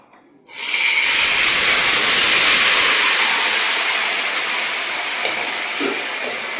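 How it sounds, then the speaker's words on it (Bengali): Lentils hit hot oil already frying with cumin and chilli, setting off a sudden loud, bright sizzle that holds steady and eases off slightly over a few seconds. "এখন আমি ডালটা ঢেলে দিব। দেখতে পাচ্ছ, ডাল ঢেলে দিচ্ছি।"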